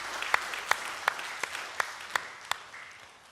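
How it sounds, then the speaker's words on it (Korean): Church congregation applauding the choir during a Korean worship service, a fairly quiet room-wide patter of clapping with several distinct sharp claps spaced roughly every third of a second over the crowd noise. "찬양대를 위해서 감사의 박수 한번 합니다."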